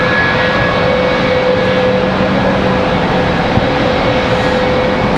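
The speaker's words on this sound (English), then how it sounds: "About to have an A319 departure." Close, loud and steady jet engine noise from an Airbus A319 departing Charlotte Douglas airport, a constant roar with thin high whines held throughout and no speech.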